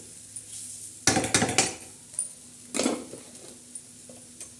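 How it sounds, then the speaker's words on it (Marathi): Near and fairly loud, a lid goes onto a pan of soaked gram-dal chutney with onion, coriander, green chillies and garlic, giving a rattling metallic clatter and a second clank a moment later, with no voices. "तर आता ह्या चटणीवर आपण झाकण ठेवणार आहोत"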